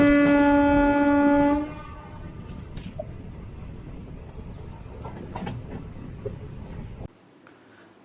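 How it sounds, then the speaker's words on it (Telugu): At a railway station, a train horn blares loudly for about a second and a half, then gives way to a steady rumble of rolling railcars and faint clatter, cutting to a quieter background near the end. "ప్రజెంట్ ట్రైన్ కోసం వెయిట్ చేస్తున్నాను. ఇంకో 10 minutesలో ట్రైన్ వస్తుంది."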